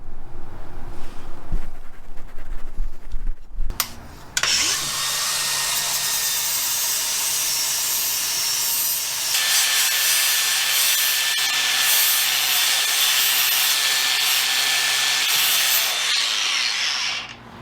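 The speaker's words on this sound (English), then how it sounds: "Now I'm going to go ahead and take a flap disc and clean that all up." A flap disc on an angle grinder cleans up metal on a Dodge truck frame, starting abruptly after a few seconds of quieter handling and then holding a loud, continuous, harsh grinding whine close by until the end.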